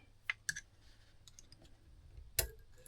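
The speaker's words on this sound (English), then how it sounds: "Little spring click." A small spring click in a mystery clock movement laid flat on a workbench snaps with a few quiet, sharp clicks close up, the loudest near the end, in an otherwise quiet room.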